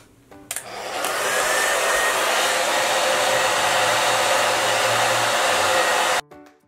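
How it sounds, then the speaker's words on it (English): A hair dryer blow-drying color-treated hair, clicking on and running at a loud, steady roar for about six seconds before cutting off abruptly, close to the microphone with no talking. "I'm gonna go ahead and blow dry my hair."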